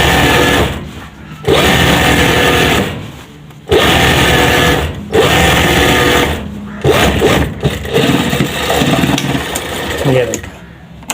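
A sewing machine stitches a gents suit in several whirring bursts of a few seconds each, separated by short pauses, close and loud.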